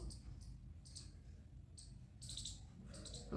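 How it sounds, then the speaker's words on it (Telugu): Faint bursts of high-pitched bird chirps come in several short clusters over a low background rumble. "బర్డ్స్ సౌండ్ వినిపిస్తుంది"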